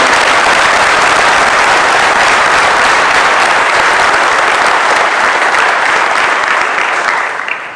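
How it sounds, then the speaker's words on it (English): Loud, sustained applause from a large audience at a fire academy basic graduation, steady throughout and fading slightly at the very end. "Can we give a round of applause to the young man?"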